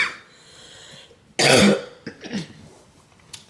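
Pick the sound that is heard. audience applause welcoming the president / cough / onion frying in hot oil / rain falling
cough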